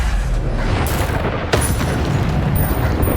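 A Bombarda blasting spell goes off in Hogwarts Legacy amid continuous loud booming combat noise, with a sharp bright crack partway through and faint high chiming tones near the end; no speech.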